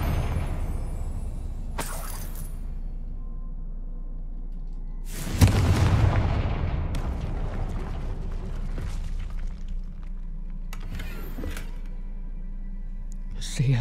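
Fire spell explosions in the Hogwarts Legacy video game: a loud blast with a burst of crackling debris and a decaying rumble, followed by sharper magical cracks, over a steady low background hum.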